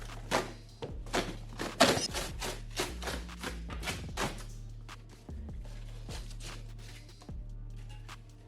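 Chopping wood with an old 1950s axe outdoors in freezing weather: a run of sharp, loud thunking strikes at an uneven pace over a steady low hum, with no talk.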